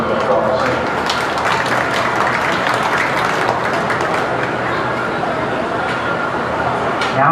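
Audience applause for exhibitors at the Belmont County Fair beef show, with steady, dense clapping from a large crowd that fills the whole stretch at an even level and stops sharply at the end.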